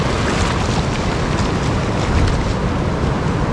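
Strong, rough ocean surf breaks at Toninhas beach in Ubatuba as a loud, continuous roar of churning waves, with wind buffeting the microphone and nothing else heard.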